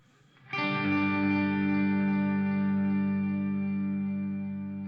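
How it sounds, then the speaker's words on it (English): An electric guitar chord struck through a Headrush pedalboard with compression, delay and reverb rings out loud and sustained, slowly fading over several seconds with a smooth effected tail. "So there's some compression and some delay and reverb."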